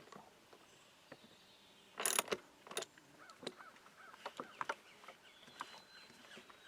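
Tightening the rear wheel of an MTD push mower: scattered metallic clicks and ratcheting taps, plus a brief harsher burst of wrench work, heard alone at low level.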